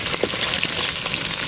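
Lote fish (Bombay duck) frying in hot oil, a steady close crackling sizzle with small pops throughout, nothing else heard.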